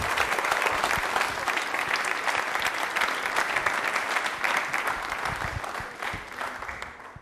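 Loud, steady applause from a TV studio audience on a yoga special broadcast, a dense sustained wash of clapping that fades slightly toward the end.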